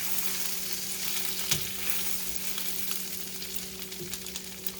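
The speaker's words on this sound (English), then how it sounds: "so that's why it's good to use olive oil and put a little butter in it" Olive oil with a little butter sizzling in a pan, a steady dense crackle with occasional sharper pops, close and alone without talk.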